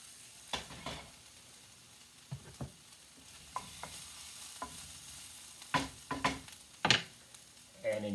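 Onion and garlic sauté in a pan under a quiet low sizzle. Sharp scrapes and knocks of stirring come at irregular moments close by, with several sitting in a cluster near the end.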